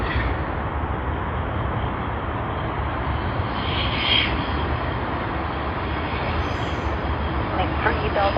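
A Cathay Pacific Boeing 777-300ER, flight from Hong Kong, rolls at Sydney Airport with a sustained jet engine rumble swelling slightly toward the end, while people talk over it.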